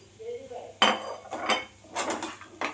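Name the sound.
stirring spice mix into beetroot and carrot in a pan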